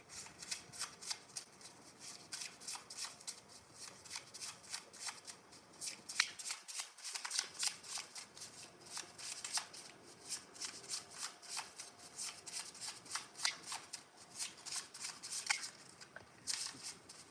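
A tarot deck being shuffled by hand makes rapid, crisp riffling bursts of card flicks that repeat in quick rhythmic clusters, close and fairly quiet.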